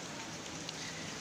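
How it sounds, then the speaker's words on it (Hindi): Rain falls outside in a steady, even hiss of drops, moderately faint and continuous over the short stretch. "आज भी बारिश आ रही है"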